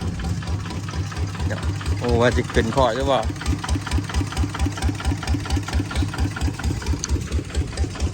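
An old tractor engine, a farm plough tractor, chugs with a steady, heavy knocking rhythm close by, while a voice speaks briefly over it.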